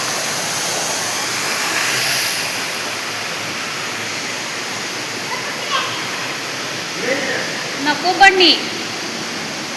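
Thosegar waterfall pours down in a steady, broadband rush that fills the whole stretch, while a child and an adult speak nervously over it near the end.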